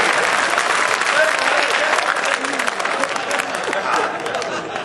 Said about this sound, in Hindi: तो ताली जोर से बजाओ यार,